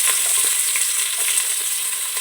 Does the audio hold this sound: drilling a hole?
no